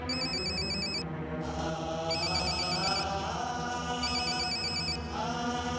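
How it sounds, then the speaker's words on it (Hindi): An electronic phone ringtone chirps in repeated bursts over a busy background, loud and close, with no talking. "उठा लेना फोन आसिम"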